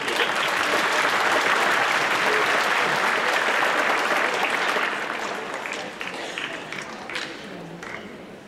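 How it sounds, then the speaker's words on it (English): Sustained audience applause after a freshman band concert in a school setting, a dense steady roar of many hands clapping that thins out toward the end. "So please, give yourself a round of applause."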